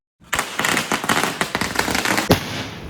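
A rapid, loud string of firecrackers bursting in quick succession at a Maghi Ganesh festival welcome, crackling close by for a few seconds with a sharper bang near the end.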